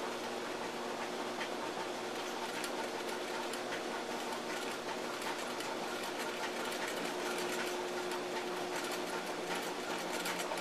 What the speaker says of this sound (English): Okay, now for the good part. The sewing.